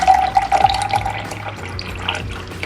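Warm water is poured from a tap or kettle onto a heaping tablespoon of condensed milk in a cup, making a close, steady splashing trickle that runs for the whole moment without any talk.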